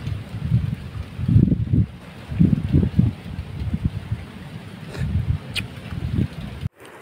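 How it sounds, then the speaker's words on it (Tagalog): Strong wind and big waves in front of an island during a storm, with a steady low roar of gusts and surging water that swells and fades in repeated pulses, then cuts off abruptly near the end. "malakas ang hangin, malaki ang alon."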